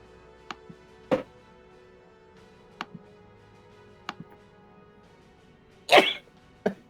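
A single sneeze bursts out near the end, loud and close, amid sparse clicks, taps and faint knocks around a tabletop game session.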